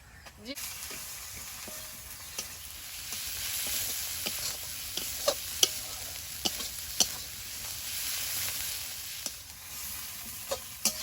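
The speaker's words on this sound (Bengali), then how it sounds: "এবার দেবো সেই ভেজানো বাটা মশলাটা" A soaked ground masala paste fries in oil in a kadai, giving a continuous bright sizzle broken by scattered sharp spatula taps and clicks, close and fairly loud, with a brief murmur at times.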